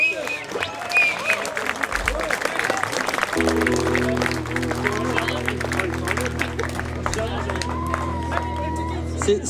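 Audience applause and crowd noise at a live stage show, a broad wash of clapping and babble with a low steady hum entering partway through.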